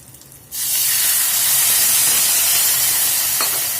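After a quiet start, water hits a hot pan of sautéed spices and erupts into a loud, sustained hiss and sizzle that continues steadily, close by.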